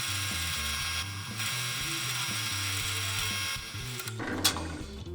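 A drill runs close by while boring through a fillet knife handle, giving a steady, loud motor whine with slight changes in pitch and a brief rough burst near the end.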